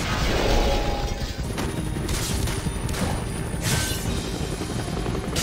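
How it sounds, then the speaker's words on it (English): A helicopter is wrecked in the X-Men Origins Wolverine video game, heard as dense, continuous crashing and rotor-like mechanical roar with bursts of impacts, loud throughout and with no talk. "5 minutes in and I'm already taking out a helicopter."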